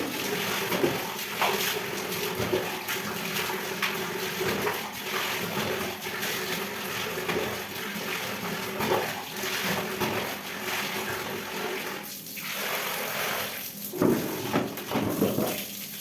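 Water splashing and rinsing over a toilet and the ceramic wall tiles of a bathroom during cleaning, a steady rushing flow that surges and pauses in uneven bursts.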